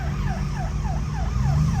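An ambulance siren wails in city traffic, a steady rising-and-falling cycle repeating about every third of a second, moderately loud over a constant hum of backed-up road noise.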